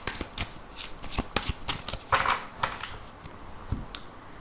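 Tarot cards being shuffled by hand, a rapid run of crisp riffling flicks and slaps in a quiet room, close and fairly loud, alone without talk.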